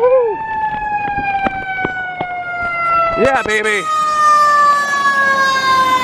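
A brand-new Pierce fire engine in Montreal wails its siren in long rising and falling tones while air-horn blasts cut in, loud and passing close, with a man cheering over it.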